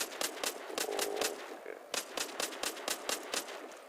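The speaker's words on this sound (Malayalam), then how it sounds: "നമ്മൾ വെടിവെക്കാൻ പഠിക്കുക." Gunfire in the Walking Zombie 2 video game, a series of sharp, evenly spaced shots that continue with short gaps, close and fairly loud, with no talk over them.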